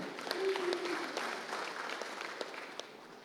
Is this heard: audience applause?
yes